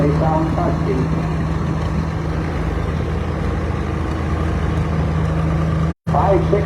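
Antique 1971 family-owned tractor with a big exhaust pipe, running steadily with a deep, throaty engine drone and low harmonic hum, close and continuous, briefly cut out near the end.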